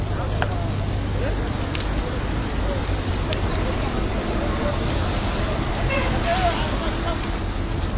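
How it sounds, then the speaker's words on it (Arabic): A car's cabin fully engulfed in flames, giving a steady roaring, crackling burn that runs unbroken throughout, with voices faint in the background. "النار واكله الكابينه كلها"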